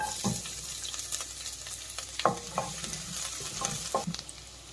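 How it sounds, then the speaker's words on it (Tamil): Chopped small onions are stirred and sautéed in a pan as the base for mushroom soup, with a soft steady sizzle broken by several distinct scraping stirs of a spoon, close and moderate in level, no talking. "இப்போ வெங்காயத்தை நல்லா அந்த மாதிரி நல்லா வதக்கிக்கிறோம்."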